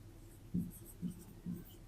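Three short, quiet strokes of chalk or marker on a board during a math lesson, spaced evenly and heard close but soft against a faint room hiss.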